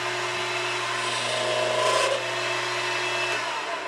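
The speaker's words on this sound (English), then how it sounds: "I also tried running the lathe at a higher speed." A mini lathe cutting metal at higher spindle speed gives off a continuous loud rasping, scraping tone over a steady motor hum, with a brief intensified screech midway.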